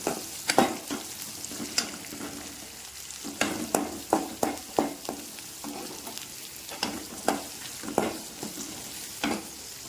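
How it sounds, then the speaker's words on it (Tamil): Onions and garlic sautéing in a pan sizzle steadily up close, broken by repeated sharp scrapes and taps of a spoon stirring at irregular intervals, with no talking. "இப்போ இதெல்லாம் நல்லா வதக்கிக்கலாம். இப்போ கொஞ்சம் லைட்டாக வெங்காயம் கலர் மாறுது."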